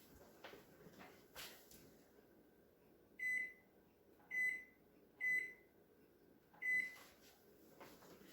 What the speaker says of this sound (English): let me set the kitchen timer for 5 more minutes